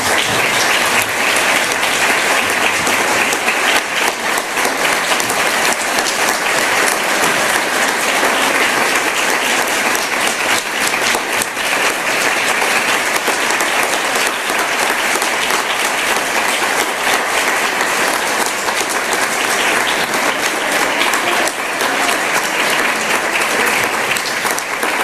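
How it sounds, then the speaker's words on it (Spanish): Sustained applause from a large audience at a human rights awards ceremony, a dense, even clatter of clapping that continues steadily throughout without letting up. "a quien le damos un cordial aplauso"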